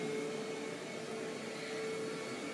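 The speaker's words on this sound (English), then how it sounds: "My mom has to vacuum at this time." A vacuum cleaner drones steadily and evenly throughout, a constant whirring hum with no pauses and no voices.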